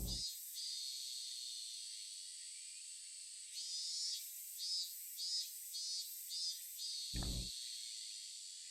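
Cicadas in a Higurashi game scene buzz in a steady, high-pitched drone that pulses in a few rhythmic swells, with a brief low thump near the end and no voices.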